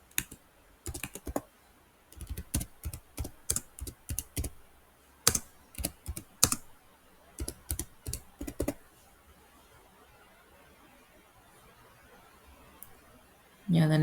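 Code being typed on a computer keyboard in quick bursts of crisp key clicks, several runs of strokes separated by short pauses, close up, followed by a quiet stretch near the end.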